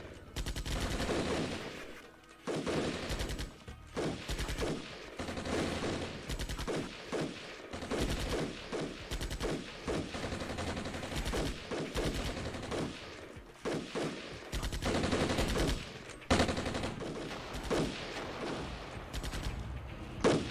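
Sustained gunfire from the video game Armored Brigade, with dense bursts of rapid shots and scattered single reports that come back again and again at fairly even volume.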